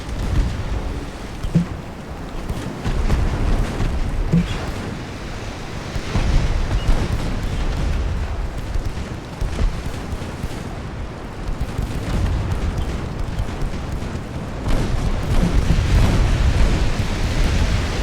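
Naval gunfire in Ultimate Admiral Dreadnoughts, a continuous rumbling barrage of deep booms and heavy shell impacts rolling over one another without pause, with no voices.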